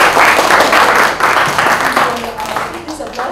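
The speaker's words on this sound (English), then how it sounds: "guys, a round of applause for her." An audience at a writers' gathering in Aizawl breaks into close, loud clapping in rhythmic waves, while a voice speaks over the applause as it begins to fade.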